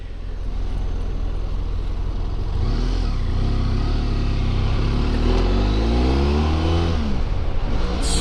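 A BMW F700GS motorcycle engine runs steadily while riding, with rising and falling revs as gears shift, loud and close throughout with no talking.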